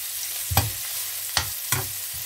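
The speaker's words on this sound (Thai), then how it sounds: "เราก็จะทำการขั่วขิงไปเรื่อยๆจ้ะขั่วขิงจนเพิ่นสุกเพิ่น เพิ่นหอมพุ่นละจ้ะ ขั่วขิงให้หอม" Ginger stir-fried in a pan for chicken rice, with a steady low sizzle and three distinct scraping stirs of the spatula against the pan, close and fairly quiet.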